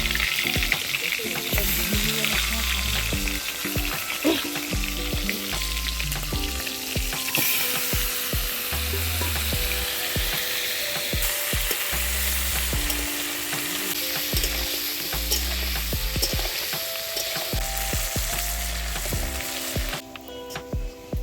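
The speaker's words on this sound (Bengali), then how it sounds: "চিংড়ি মাছগুলো কিন্তু ভাজা হয়ে গেছে" Prawns fry in hot oil in a pan, sizzling steadily throughout, with repeated scraping and stirring strokes and occasional clinks, close and continuous, with no talking.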